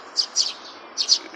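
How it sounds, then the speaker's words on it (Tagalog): Several quick, high chirps from many Mayang Pipit (Eurasian tree sparrows) in two small clusters, close and clear above a quiet, low background murmur. "Nabantayan ako ng mga ibon."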